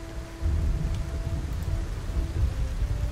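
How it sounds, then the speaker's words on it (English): Rain falls steadily during a thunderstorm, with deep rumbling thunder rolling low and heavy beneath the constant patter throughout, fairly close and with no voices. "it is raining on us now. The thunderstorm is fully upon us."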